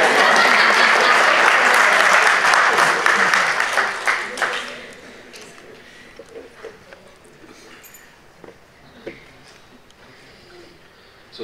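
A crowd at a charity test event applauds comedian Ali Asgar with loud, full clapping for about four seconds. The clapping then fades into scattered claps and quiet room murmur, with a few voices talking.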